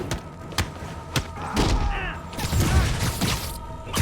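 A grenade explosion in Marvel's Spider-Man lands as a heavy thud among scattered game impacts and combat noise, with a rumbling burst midway and more thumps around it.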